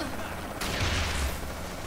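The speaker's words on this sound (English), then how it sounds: "Someone's shooting at me from behind." Enemy gunfire in the Saints Row The Third video game, a short burst of shots that starts sharply partway through and rings on loudly, with a low boom underneath.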